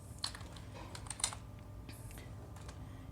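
Bangla text is typed on a computer keyboard with Bijoy, as a quiet run of scattered key clicks in uneven bursts, up close with no voices.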